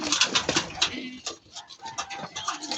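Racing pigeons coo and flutter close by in a mini flyers loft, with scattered soft calls and light shuffling throughout.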